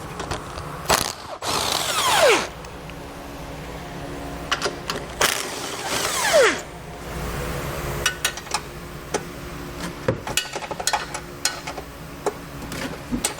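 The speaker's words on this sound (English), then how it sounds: "So I'll use a 12mm socket to get those removed." Ratchet with a 12mm socket working the bumper beam bolts on a 2017 Toyota Prius: bursts of rapid clicking come close and loud, separated by pauses and small metallic taps, with no talking.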